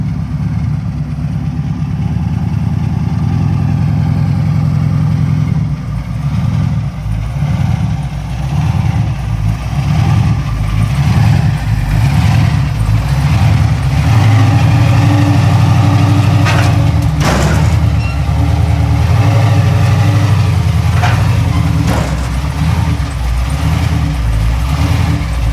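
A car's engine runs close and loud in a steady low rumble while it is pulled onto a trailer, holding a fairly even idle with slight swells throughout.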